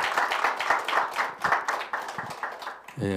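A congregation gives a round of thankful clapping at a special prayer gathering, closely spaced hand claps with a loud, uneven rhythm, ending in a brief electronic tone.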